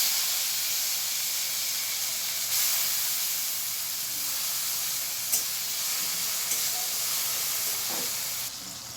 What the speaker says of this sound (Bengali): এবার আমার তেলটা গরম হয়ে গেছে, আমি কড়া বসিয়ে দিয়েছি, এর মধ্যে আমি একটুখানি জিরে দিয়ে দিলাম,